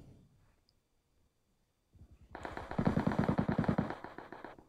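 Rapid automatic gunfire in a mobile battle-royale custom-room match, a steady burst of close, loud shots building after a short quiet opening with a few faint clicks.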